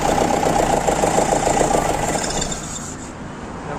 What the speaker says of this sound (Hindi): जैसे ही चालू करता हूँ लगेज चालू होगा